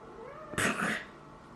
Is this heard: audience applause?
no